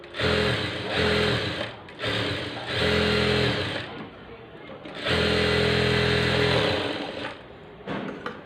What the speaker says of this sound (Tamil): இப்போ வந்துட்டு எதையும் அதே மாதிரியே சுற்றி தையல் போட்டு எடுத்துக்கலாம்.